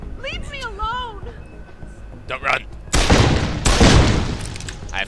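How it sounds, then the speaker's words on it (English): Gunfire in a video game: after a brief voice, two loud, booming shots crack out close together near the end, each with a short, noisy tail. "Gunshot."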